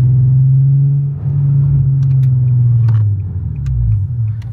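Nissan 370Z exhaust rumbling loudly from inside the car while driving, a steady deep drone that swells and eases with the throttle, with faint clicks and knocks over it.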